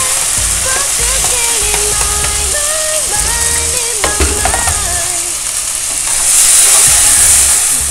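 Tomatoes, with beans already in, go into a hot pan for Maggi noodles, giving a loud, steady frying sizzle and hiss that holds throughout and swells slightly near the end.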